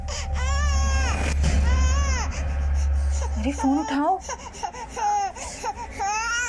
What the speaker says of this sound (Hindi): अरे बच्ची रो रही है, तुमको दिख नहीं रहा क्या?